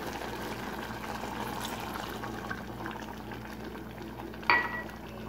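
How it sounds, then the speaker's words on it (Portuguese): Coconut milk is added to a simmering pot of shrimp stroganoff, with a soft steady bubbling and liquid pouring throughout, then a short sharp clink near the end. "Agora vamos acrescentar o leite de coco."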